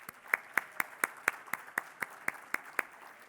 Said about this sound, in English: So how about a round of applause for everyone?